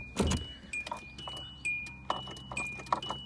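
A 2004 Hyundai Sonata that won't crank: a key jangles and clicks in the ignition, followed by scattered short clicks and faint electronic chimes, with no engine turning over, heard up close inside the car.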